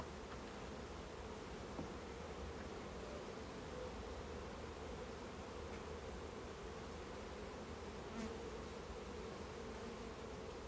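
Honeybees in a hive with a suspected laying worker drone on in a steady, dense buzz that holds at an even level throughout, close and continuous, with no voices.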